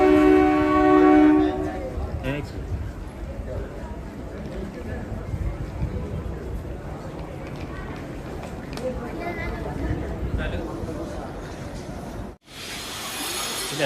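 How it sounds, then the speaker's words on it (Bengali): A train departing a station in Himachal Pradesh near Shimla, a loud horn blast at the start followed by a low rolling rumble of the engine and wagons, with people talking nearby throughout. "ওই ট্রেনটা ছাড়ছে"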